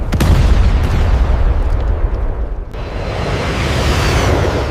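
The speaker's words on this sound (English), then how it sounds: "The Iraqi capital lit up as explosions echoed across the city." Cruise missile strikes on Baghdad make a loud, dense rumble of explosions, an opening blast rolling into a sustained roar with a sudden sharp burst partway through.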